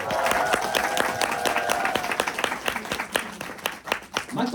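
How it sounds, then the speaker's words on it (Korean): Audience applause at an event, a burst of loud, uneven clapping with sharp individual claps and a sustained tone underneath, thinning out toward the end as a voice begins. "박수 부탁드리겠습니다"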